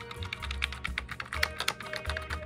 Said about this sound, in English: And let's type some characters.